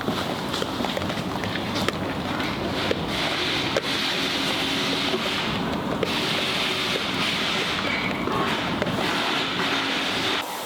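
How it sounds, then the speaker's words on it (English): A pressure washer rinses snow foam off the underside of a car, a steady, loud broadband hiss and spray of water hitting metal that runs continuously and close with no pauses. "then took the pressure washer and thoroughly rinsed it all off"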